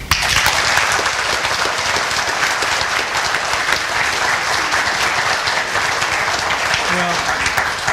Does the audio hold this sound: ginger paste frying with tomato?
no